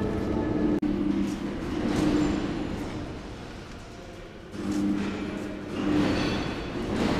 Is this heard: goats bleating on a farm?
no